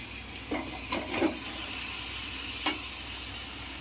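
Half a kilo of chicken for a gravy sizzles steadily in a pan while it is stirred, with a few close scraping and clattering knocks over the constant frying hiss.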